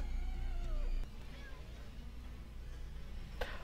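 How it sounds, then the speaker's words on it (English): Cats meowing in the film Batman Returns, a few wavering, drawn-out meows over a loud low background hum, followed by a sharp hiss near the end. "Here come the kitty cats."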